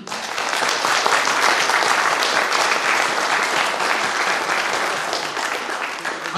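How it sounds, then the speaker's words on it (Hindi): Loud, sustained applause from an audience at the start of a product training session, a dense steady wash of clapping that holds for the whole stretch without letup. "हम स्टार्ट करते हैं और एक जोरदार तालियों के साथ"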